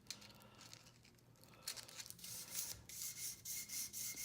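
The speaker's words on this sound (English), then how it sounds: "sand some of the oxidation off of it." Sandpaper rubs the oxidation off a small hand-made metal pendant held in pliers, a close raspy scraping that starts faint and grows into louder repeated strokes.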